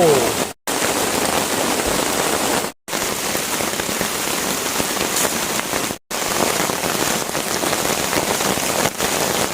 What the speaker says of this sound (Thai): ตอนนี้ฝนตกหนักมากนะครับผม